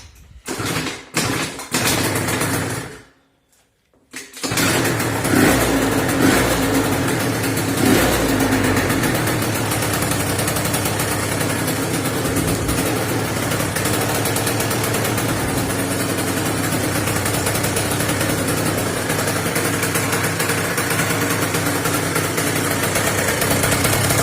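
A Dodge Nitro's engine is cranked and fires, with a few short bursts and a brief gap before it catches and settles into a loud, steady idle that drones on.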